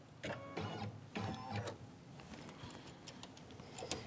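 A Kimberbell embroidery machine stitches a basting stitch around a quilt block, giving close, rapid ticking and clicking with short bursts of needle chatter, faint overall.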